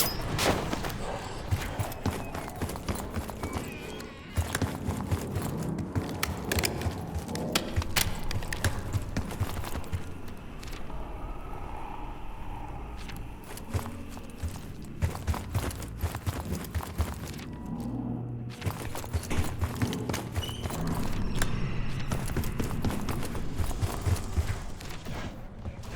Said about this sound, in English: You hearing gunfire? Yeah, sounds like it's coming from one of the lower floors.